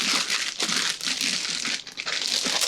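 A plastic bag holding a video game item crinkles and crackles loudly and close up in repeated bursts, rustling continuously with brief pauses.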